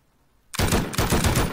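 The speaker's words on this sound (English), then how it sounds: "They're shooting at me." Gunfire in the video game Rust during a purge night, a loud rapid volley of shots that starts abruptly after a brief silence and continues steadily to the end with no talking.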